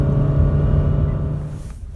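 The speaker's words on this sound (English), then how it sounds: "So, as you can see, they accelerate pretty good." A 2016 Honda HR-V ESi accelerates with a steady, close engine drone that holds a firm pitch and then eases off near the end as the revs drop, heard from inside the car.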